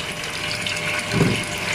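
Water rushing steadily into a Samsung washing machine tub that fails to shut off, a continuous close hiss and gush with a faint mechanical whir beneath.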